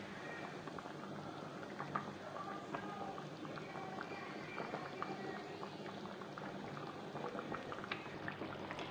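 Chicken pieces cooking in a pan after water has been added, a soft steady bubbling simmer with faint pops, fairly quiet and close.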